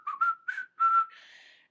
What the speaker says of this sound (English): Whistling the Power Rangers song.